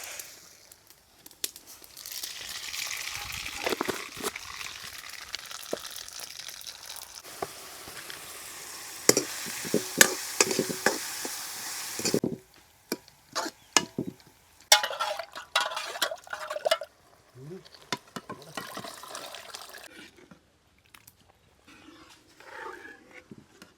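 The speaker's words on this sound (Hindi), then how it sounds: "अब ये दाल में तड़का लगा रहे हैं" A tadka for dal sizzles and crackles in hot oil at an outdoor riverside cooking spot, a bright hiss that later gives way to sharp pops, stirring and utensil clinks.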